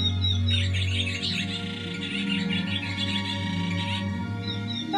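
Birds chirp and twitter together in a busy, high-pitched chorus, close and fairly loud, over a low steady hum.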